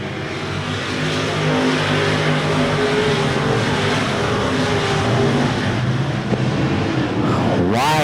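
Race cars at RPM Speedway, a loud dense roar of several engines held at high revs, with one car droning past and rising sharply near the end.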